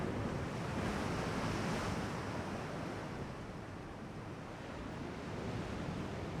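Stormy weather at sea in the naval game Ultimate Admiral Dreadnoughts: a steady, dense wash of crashing waves and rushing wind, constant and fairly soft, with no other sounds.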